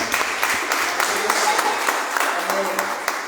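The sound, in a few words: audience applauding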